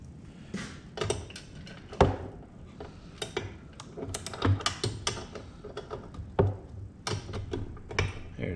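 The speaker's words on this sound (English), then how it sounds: "we're going to go ahead and tighten this up. And we're using a 1/2 inch socket and wrench" Ratchet wrench with a 1/2 inch socket tightening a bolt on a tool box mounting bracket for a John Deere 1025R tractor, giving repeated close clicking ratchet strokes in irregular bursts.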